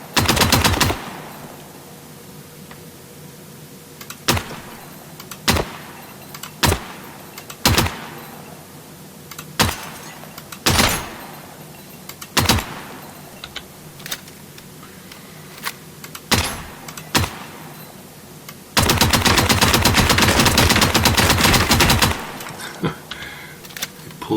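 Full-auto gunfire from a rifle in Gunsmith Simulator, fired in a string of separate sharp shots with pauses between them, then one long continuous loud burst near the end.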